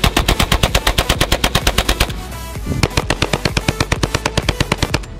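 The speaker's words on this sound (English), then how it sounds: "I'm going to show you two real-life versions of the drum shotgun" A real drum-fed shotgun fires in two rapid full-auto bursts, loud sharp blasts in quick even rhythm, roughly twenty shots, a short pause, then another run of about twenty.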